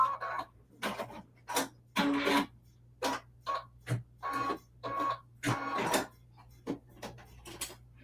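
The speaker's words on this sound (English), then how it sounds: "Before I change out the bobbin, I'm going to do a thread cut." An embroidery machine working through its automatic thread cut, close by, with a series of mechanical whirring and clacking bursts separated by short gaps over a low steady hum.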